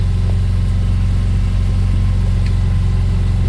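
Boat engine running during a boat ride, a loud, steady, close low drone that continues unbroken throughout.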